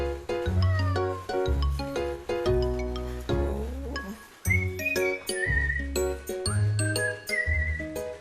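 A cat meows repeatedly up close, loud drawn-out cries coming one after another with brief pauses between them.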